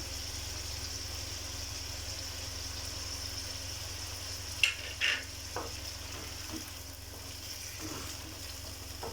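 Onions and potatoes frying in a pan for khatte aloo make a steady, moderate sizzle under a low hum, with a couple of sharper clinks from stirring partway through and no talking.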